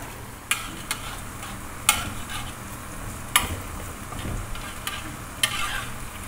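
Kuih tumpi frying in oil in a wok, a steady sizzle with several sharp clinks of a utensil scraping and lifting the pieces from the pan.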